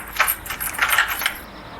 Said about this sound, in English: Keys don't seem to fit.